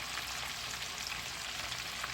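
Chicken pieces frying in a pan for Jamaican brown stew, a dense, steady crackling sizzle throughout with no talking.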